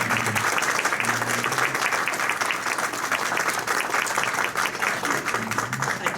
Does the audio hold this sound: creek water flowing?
no